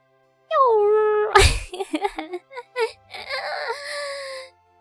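A dog in the video game Eternal Eyes lets out a rising whimpering wail, followed by a run of short, broken yelping sounds and a final drawn-out whine, close and clear against silence.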